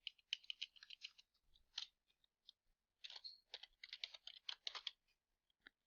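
Quick bursts of light key clicks as a name is typed on a computer keyboard, close and quiet, coming in uneven clusters with short pauses between them.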